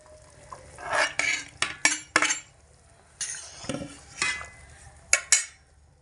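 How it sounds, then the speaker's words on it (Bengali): Fried brinjal pieces tipped into a pot of half-cooked potato curry, with a run of close, sharp clinks and scrapes of a spoon against the pot and soft stirring between them, no talk. "এবার আমি এর মধ্যে দিয়ে দেব যে বেগুনগুলো ভেজে রেখেছিলাম, সেই বেগুনের পিসগুলোকে দিয়ে দেব।"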